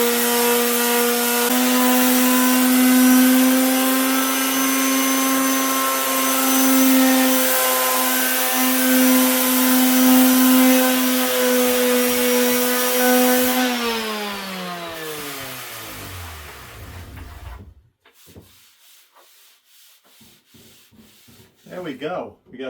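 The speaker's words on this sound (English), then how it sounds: "I'm going to quickly sand this down," A power sander runs loud and steady over a 100-year-old wooden cutting board, then winds down in pitch and stops. Faint handling noises follow in near quiet.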